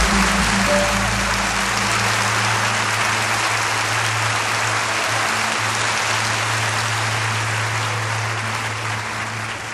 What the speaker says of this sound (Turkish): Değerli alkışlarınızla kürsüye Sayın Ateş Hekimoğlu'nu davet ediyorum.